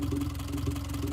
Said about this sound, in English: I think that's fuel injector noise